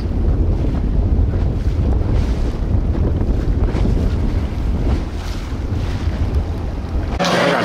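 Ocean waves at Long Beach wash steadily in a continuous broadband roar, loud and close, with heavy wind buffeting the microphone throughout and a brief shift near the end.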